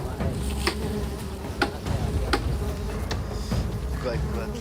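Bees buzzing around an enclosed wild hive, a close, steady droning hum with sharp knocks and taps of chopping work cutting through it.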